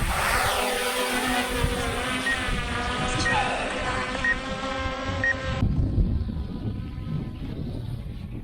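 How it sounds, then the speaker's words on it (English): A small camera drone whines with a high, harmonic buzz as it lifts off and climbs outdoors, loud at first and then cutting off abruptly partway through, with wind rumble remaining. "So the drone's up in the air at the minute"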